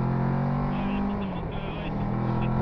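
Motorcycles pass by on a road during a motorcycle coaching ride: a steady engine drone whose pitch shifts midway, heard over constant wind and road noise.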